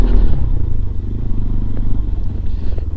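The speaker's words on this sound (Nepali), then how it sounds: "पिकअप दिएर धान्नै सकेन बाइक" A motorbike labouring on a rough track through a forest, its engine a loud, close, low chugging drone that holds steady and struggles without revving up cleanly, with faint rattling over the top.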